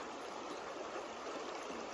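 A river flows past mossy rocks at a Yellowstone river crossing, giving a steady, close rushing hiss of moving water with no break and no voices.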